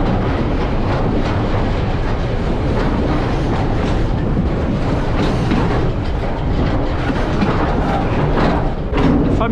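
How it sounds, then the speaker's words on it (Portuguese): A passenger train runs along rails past rock quarries, giving a loud, continuous rumble and rattling clatter heard from on board with no speech. "Olha a embala que tá esse trem, velho."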